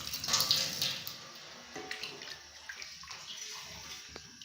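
Water is poured from a glass into a pot of rice on the stove, about three and a half glasses' worth: a rushing splash at the start that thins into a quieter, uneven trickle.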